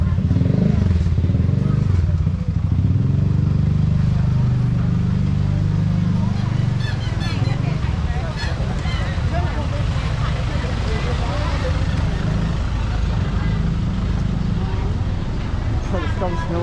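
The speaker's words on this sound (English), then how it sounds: "You just got to basically dodge motorbikes and dodge cars as you're walking along." Motorbikes and cars rumble and putter past in a crowded street market at Maeklong Railway Market in Thailand, a continuous close engine drone beneath someone talking.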